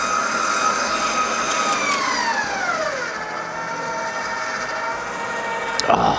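Electric hand mixer whirring steadily through chocolate cake batter for a Coca-Cola fudge cake, a continuous loud motor drone whose pitch slides downward midway, ending with a brief clatter.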